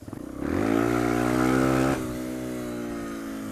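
An engine running on a makeshift fuel mix revs up to a sustained throaty exhaust note, holds it, then drops back to a lower steady idle, loud and close with no talking.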